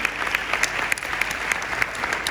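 An audience claps in a short, lively burst of applause, with sharp individual claps standing out up close against the steady patter.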